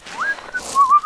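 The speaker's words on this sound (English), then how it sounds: "Every time I'm running with zombies behind me, I have to whistle" A short, loud human whistle, a quick rising note followed by a wavering tune, blown close to the microphone by a player fleeing zombies in DayZ.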